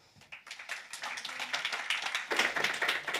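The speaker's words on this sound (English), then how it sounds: "Round of applause." An audience claps after a startup pitch at a tech conference, starting as a few scattered claps and building to steady applause.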